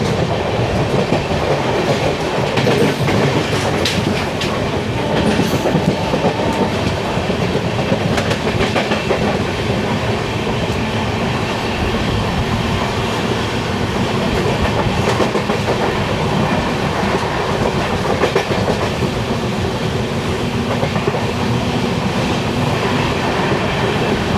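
A train runs into Mavelikara station in Kerala, a continuous loud rumble with rhythmic clickety-clack of wheels over rail joints throughout, heard from on board with no voices.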